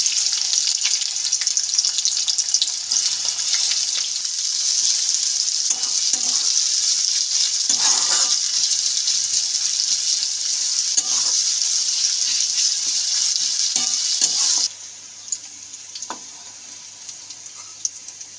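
Three medium onions frying in mustard oil in a pan, a loud, continuous close sizzle that suddenly drops to a much quieter hiss near the end, with occasional soft stirring clicks.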